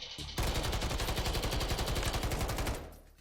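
Sustained rapid automatic gunfire from an unmodified gun on the Warzone 3 firing range, one loud continuous burst of close, evenly spaced shots lasting about two seconds before cutting off, no talking.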